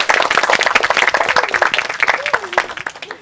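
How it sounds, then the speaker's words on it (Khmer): Applause and clapping from a school audience at a Cambodian inter-school quiz game show, dense and steady throughout, with some voices mixed in. "ការអបអរសាទរ"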